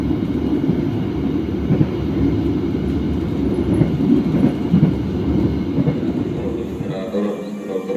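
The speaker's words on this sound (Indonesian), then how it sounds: "Kita nikmati sisa perjalanan dari Jogja ke Purwokerto naik kereta api Motis Lebaran Tengah." The Motis Lebaran train between Jogja and Purwokerto in Indonesia rolls steadily along the rails, heard from inside with a continuous low rumble and faint wheel clatter throughout.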